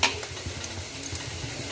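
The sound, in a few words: mustard seeds, chana dal, onions, green chillies frying in oil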